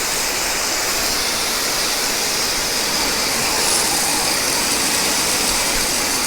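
A garden hose sprays a steady, loud rush of water to rinse cleaned mangrove snapper, lane snapper and porgy. The hiss holds constant and close with no talk.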